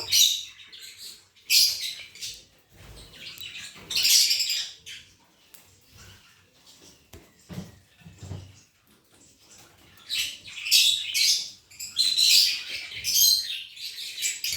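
Pet lovebirds chirp in shrill, rapid bursts close by, pausing between flurries, with faint rustling in the quieter gaps.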